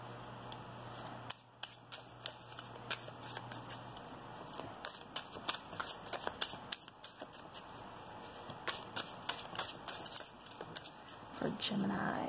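Oracle cards shuffled by hand in a tarot reading, a run of soft papery riffles and taps repeating steadily throughout, close and fairly quiet, with faint room hum and no talking.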